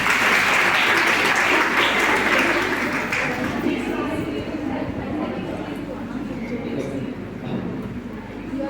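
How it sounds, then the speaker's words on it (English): Loud crowd applause at a college Utsav 2022 event in Rohtak, dense at first and then thinning and fading, with background chatter and a steady low hum beneath. "Once again, a big applause."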